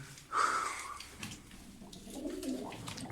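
A soft bird coo close by, followed by quieter low cooing and rustling, with no talking.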